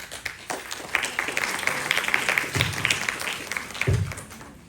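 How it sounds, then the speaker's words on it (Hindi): Applause from an audience in an auditorium during a school seminar event, a steady patter of many hands clapping that swells slightly and then fades. "तालियों की गूंज के साथ एक क्षण को"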